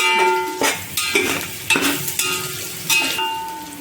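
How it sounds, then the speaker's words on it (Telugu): Masala for a vegetable paneer biryani frying in a pan, with a loud steady sizzle and four or five distinct scraping stirs of a spoon against the pan. "చక్కగా వేగిందండి మసాలా అంతా"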